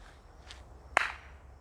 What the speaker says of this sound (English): Okay, now with claps.